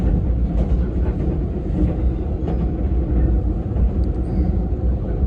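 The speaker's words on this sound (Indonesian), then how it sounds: "kecepatan kereta api Menoreh di angka 70 km per jam ya" A Menoreh economy-class passenger train runs at about 70 km/h at night on the Semarang–Jakarta line, heard from inside as a continuous loud rumbling roar with faint clatter and a few brief squeals.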